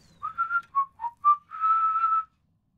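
A person whistles a short tune in the video game Starfield: several brief clear notes followed by one long held note, close and alone against silence.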